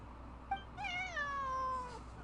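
A cat in the Genshin Impact video game gives a short chirp and then a longer, drawn-out meow that falls in pitch, close and clear over faint background hum.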